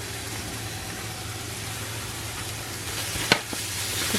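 Minced meat balls sizzling in a pan for a kefta tajine, a steady even sizzle throughout with a brief clink near the end.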